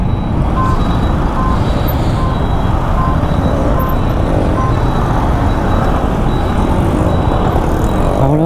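Dense road traffic fills a Chennai street with a steady engine rumble from cars and trucks, and a repeating high reversing beep sounds close by throughout, with no talk.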